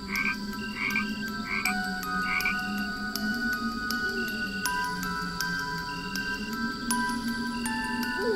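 Frogs croak steadily in a jungle at dusk, a repeating chorus of calls layered over a continuous low hum and insect-like whistles, with no voices.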